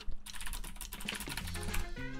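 Rapid clicking of keys on a computer keyboard, close and continuous, with a tonal in-game Minecraft sound joining toward the end.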